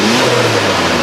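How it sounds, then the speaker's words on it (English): A Nissan GT-R engine with forged internals, an iron block and six individual throttle bodies, fitted in a four-door sedan, revs loudly and close by. It gives one brief, sustained roar whose pitch climbs slightly. "rev it up to get the power out of it."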